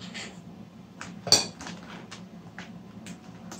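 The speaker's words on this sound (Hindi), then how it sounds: "चम्मच की मदद से इसमें क्रीम डालेंगे" A metal spoon scoops cream into an open plastic bag, giving light scrapes and a single sharp clink near the middle, close and quiet over a low background hum.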